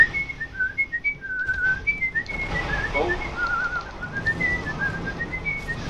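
A person whistles a wandering, improvised melody close by, steady and clear, while playing Dark Souls, with faint game sounds and low background noise beneath.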